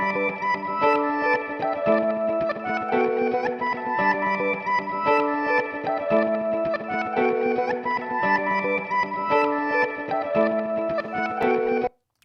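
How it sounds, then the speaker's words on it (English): Layered electric guitar loop built with an MXR effects pedal, sped up to double speed, repeating a bright, choppy, effected riff steadily for about twelve seconds before cutting off abruptly. "That at double speed sounds like this."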